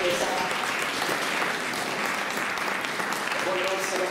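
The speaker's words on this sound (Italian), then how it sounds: "facciamo un applauso al nostro sacerdote" Dense, steady applause from a church congregation for their priest at a 2019 Panettieri living nativity event, filling the whole stretch with voices audible underneath.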